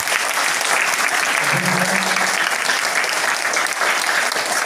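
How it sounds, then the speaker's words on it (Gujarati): Loud, sustained applause from a school assembly during a student council election, a dense crowd of clapping hands filling the whole stretch at a steady level without pause. "એકવાર જોરદાર તાળીઓ."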